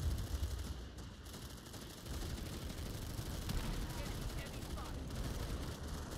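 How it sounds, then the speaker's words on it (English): Dense gunfire from the video game Planetside 2 rattles on in continuous automatic bursts against heavy assault troops, loud and sustained, with a brief dip near the start. "I hate shooting at heavy assaults"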